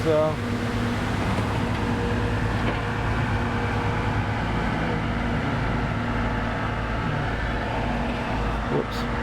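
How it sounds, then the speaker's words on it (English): A street cleaner vehicle moves close by at a plaza under renovation, giving a loud, steady rumbling drone with a fan-like whir that holds unbroken throughout. "This street cleaner moving behind me, making a lot of noise."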